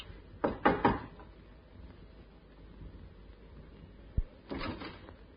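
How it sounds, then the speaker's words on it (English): Sharp knocks on a flat door, staged as a radio drama sound effect: a quick cluster of three close raps, a lull, a single thud, then another short burst of knocks. "But instead, he knocked."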